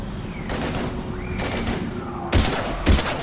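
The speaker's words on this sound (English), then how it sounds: "I've got Lieutenant Vega with me, but we're taking heavy fire." Gunfire in the Mass Effect 3 demo on Xbox 360: sustained rapid weapon fire and bursts over a dense battle din, ending in two heavier, punchier shots near the close.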